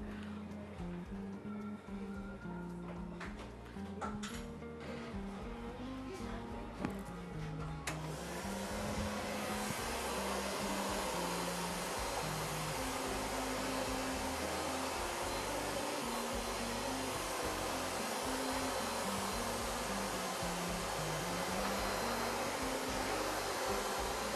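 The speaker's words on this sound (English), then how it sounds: "now I'll blow dry it for you" A hair dryer blows steadily while a woman's styled, mousse-treated hair is dried, a constant loud whooshing roar that starts partway in and runs to the end, with faint low voices beneath.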